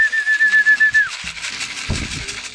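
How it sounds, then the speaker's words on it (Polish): Homing pigeons at a loft during a racing-pigeon competition flight give a steady whistling call that glides downward, followed by soft low cooing near the end, with no talk over it. "Nie chcą wchodzić w te gołębie."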